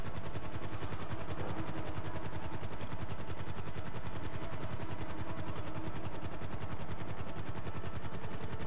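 A helicopter flies steadily in Grand Theft Auto V, its rotor chop pulsing in a fast, even rhythm over a constant engine drone, loud and unbroken throughout.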